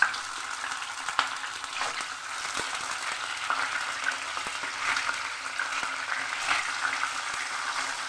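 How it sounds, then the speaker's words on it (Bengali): Catla fish marinated in salt and turmeric frying in hot oil, a continuous moderate sizzle with scattered sharp pops and spatters and no speech. "এবার আমি দিয়ে দেবো নুন হলুদ দিয়ে মেখে রাখা কাতলা মাছ।"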